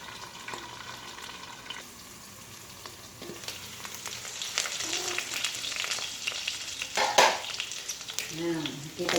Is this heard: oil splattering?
yes